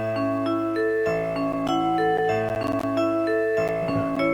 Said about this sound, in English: This is the instrumental cover of the ML304B Yuyake Koyake chime.